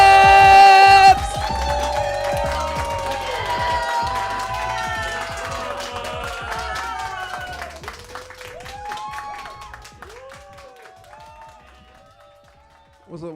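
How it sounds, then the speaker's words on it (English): A St. Louis comedy club crowd claps and cheers for an arriving comedian, sustained applause with whoops and a host talking over it, slowly dying down. "Clap it up, clap it up. Start clapping right now."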